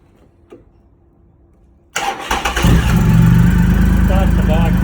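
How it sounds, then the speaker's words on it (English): Triumph Rocket III motorcycle engine starting: a brief faint click, then the starter catches and the big engine bursts into a loud, steady idle that holds to the end. "Start the bike up."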